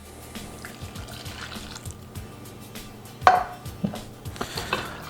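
Water pouring into rice vinegar in a kitchen while making hot sauce from hot pepper powder, a soft close trickle with a sharper splash partway through and small clinks after.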